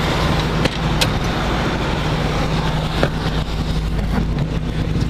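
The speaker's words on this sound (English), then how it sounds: "Car turned off." Engine of a 1969 Dodge Charger running at a steady idle, a continuous low rumble heard close up without talk, ending as the engine is shut off.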